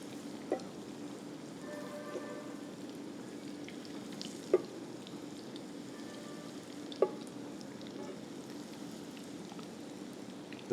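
Coated chicken pieces fry in hot oil with a steady, even sizzle and crackle and a few sharp pops and taps of the utensil, close and continuous with no speech.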